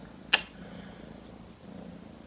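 A small kitten purrs in a soft, low, steady rumble through the whole stretch, with one sharp click near the start and no talking.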